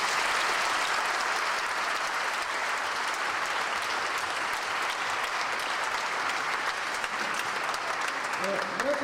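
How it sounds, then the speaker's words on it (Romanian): An audience at a graduation ceremony of the Food Engineering, Tourism and Environmental Protection faculty at UAV Arad applauds in a long, steady wash of clapping, with a voice starting up faintly at the very end. "trebuie aplaudați acum de către noi toți"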